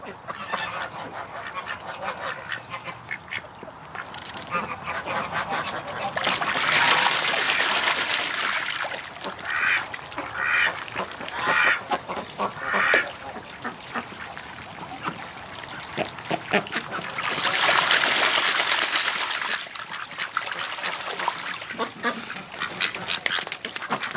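Ducks and geese honk and quack loudly in repeated bursts near by, with water sloshing underneath and faint human voices now and then.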